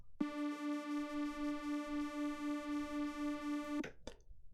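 One sustained synth pad chord with a gently pulsing, wavering tone, held steadily for several seconds before cutting off with a short noise.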